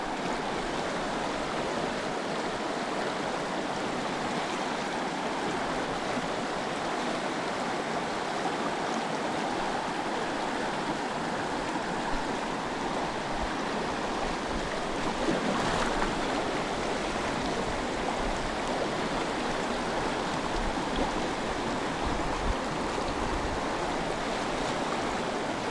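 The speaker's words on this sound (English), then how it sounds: "I'm loving this deep water, deep rushing water" Deep river water rushing steadily and loudly through a stream in Patagonia, a continuous close broadband roar with no voices, holding even throughout.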